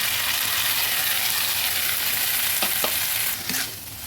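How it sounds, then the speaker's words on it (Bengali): A loud, steady sizzle of cabbage paste frying fills the pan, broken near the end by a few clacks of a spatula against the metal. "এবার আমি পেস্ট করে রাখা বাঁধাকপিটা দিয়ে দিচ্ছি"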